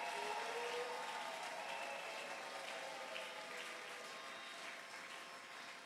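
Congregation applauding at a Christmas church service, a faint, steady wash of clapping from a crowd, sustained for several seconds without speech.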